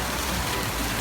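Steady rain falls at a zoo as an even, dense hiss that stays constant, with no voices heard.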